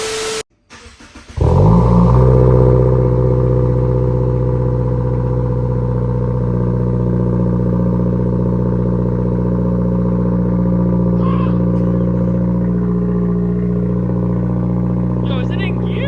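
A 2022 Subaru WRX with an aftermarket Borla or AeroFlow exhaust starts up after a short sharp burst, then settles into a loud, steady, deep exhaust drone that holds at close range without any speech.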